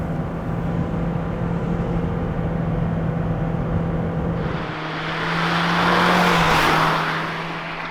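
A 2010 Hyundai Sonata engine drones steadily, then swells into a louder rising rush as it accelerates, loud and close, with no talking.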